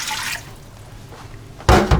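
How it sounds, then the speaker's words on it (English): Two cups of water poured into the bottom of an Instant Pot pressure cooker, a short splashing burst at the start and another louder splash near the end, with a quiet pause between. "First I'm going to put 2 cups of water in the bottom of my pressure cooker."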